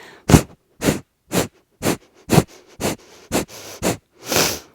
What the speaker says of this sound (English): a forceful exhale through the nose